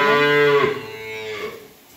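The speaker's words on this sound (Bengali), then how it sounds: "এটা হলো আজকের আমার 1 নাম্বার বকনা বাছুর" An eight-month-old heifer calf lets out one loud, close moo that rises and then trails off into a fading lower groan, alone without talk.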